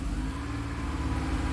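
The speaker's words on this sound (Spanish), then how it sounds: "Miren, ahí le estoy acelerando." A Honda car engine, checked for MAP sensor fault codes P0107 and P0108, runs with a steady low rumble and a slight rise as it is revved, continuous and close with no talking.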